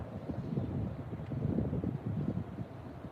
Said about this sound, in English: you just come down here and that's the wind